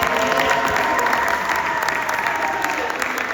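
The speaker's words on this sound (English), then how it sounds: "everyone give Kara applause for joining us today" Steady, dense applause from an audience at a community awards and recognition evening, filling the room at close range and continuing evenly without a break.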